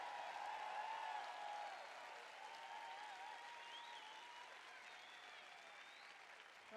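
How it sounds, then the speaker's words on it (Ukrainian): A church audience applauds during a sermon, sustained clapping from a large crowd that stays steady and then gradually softens, heard at a distance. "Будь ласка, аплодуйте голосніше мені"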